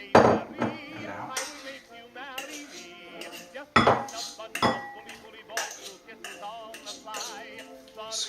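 Root vegetable mash is scraped out of a pan into a bowl, with repeated metallic scrapes, clinks and knocks of a utensil against cookware, close and fairly loud in irregular bursts.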